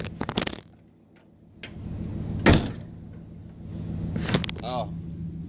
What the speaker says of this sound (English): Pick up on the door and it'll close.